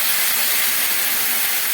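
Water is poured into a hot pan of mixed vegetables seasoned with turmeric and salt for an egg curry, giving a steady, loud, broadband hiss and sizzle that lasts without a break and has no talk over it.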